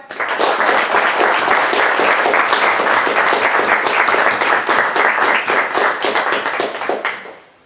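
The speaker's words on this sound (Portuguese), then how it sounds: "queria dar uma salva de palmas à Maria José" An audience bursts into a loud, close round of applause at a session on historic pieces, sustained and dense before tapering off abruptly near the end.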